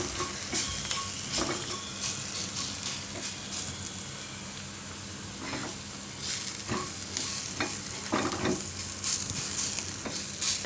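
Cumin and garlic roasting in a pan for a taro-leaf paratha filling, a continuous close sizzle broken by repeated spatula scrapes and taps at an uneven rhythm.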